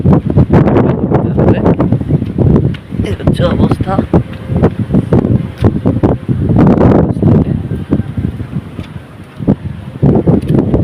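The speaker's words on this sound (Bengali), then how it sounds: "বাতাসের কারণে বাতাসের কারণে দাঁড়ানো যায় না, বৃষ্টি চলে আসছে অলরেডি" Strong wind on the Bay of Bengal coast as rain moves in, roaring and buffeting the microphone in loud, continuous gusts while someone talks over it.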